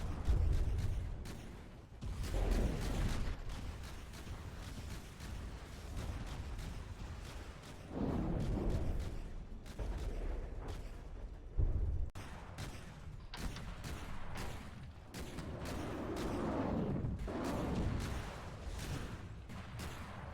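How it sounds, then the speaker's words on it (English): Missile strikes in the naval combat game From the Depths, a rapid series of booming impacts and explosions that rumble in several heavy waves across the whole stretch, with sharp cracks between them and no talk. "each missile strike is quite impactful"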